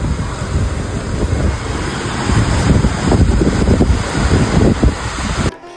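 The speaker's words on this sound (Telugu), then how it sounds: "కానీ అక్కడ గాలి వస్తుంది భయ్య." Strong wind blowing across an open rooftop on a hilltop temple site in the hills, a continuous loud rushing roar buffeting the microphone until it cuts off abruptly at the end.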